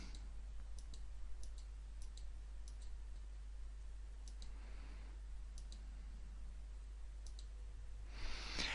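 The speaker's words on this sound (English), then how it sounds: "So I'm going to click through it all fairly quickly." A computer mouse clicks through a PowerPoint slideshow, giving faint, close, single and double clicks spaced a second or so apart over a low steady hum, with no talk.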